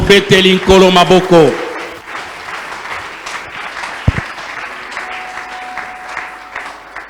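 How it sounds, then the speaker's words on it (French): A church congregation at a worship service bursts into applause and cheering after a French-speaking voice calls out, the clapping continuing as a steady crowd patter. "Acclamons pour le Seigneur."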